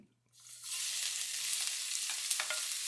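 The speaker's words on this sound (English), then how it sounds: "we're gonna put the gingers and the garlic" Ginger and garlic hit a hot pan for a steak and potato stir fry, and a steady close sizzle starts abruptly after a brief quiet moment, then holds loud and even with a few sharp spits.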